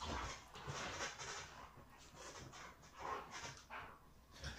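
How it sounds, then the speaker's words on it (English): Dogs playing together at home, with panting, scuffling, whimpers and short yelps coming in irregular bursts close by, no talk over them. "This guy wanted to see what would happen if he screamed while his dogs were playing."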